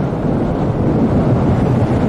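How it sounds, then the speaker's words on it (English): Strong, steady hurricane wind from Hurricane Gordon in Pensacola, 2018, buffets the microphone with a loud, continuous low roar, and no voices are heard. "That wind is something else."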